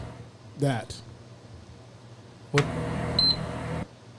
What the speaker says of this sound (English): That's the PlayStation beep.